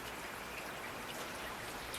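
Steady rain falls continuously, a dense, even hiss of drops striking surfaces with no pauses or other sounds.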